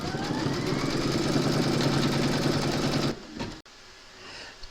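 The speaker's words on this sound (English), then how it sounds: "Pop your hoop into your machine and stitch round number 3 to secure it" Embroidery machine in a hoop stitching a koala appliqué outline, a loud, fast, steady mechanical whir and needle rattle for about three seconds, then it stops, leaving brief clicks and quiet room noise.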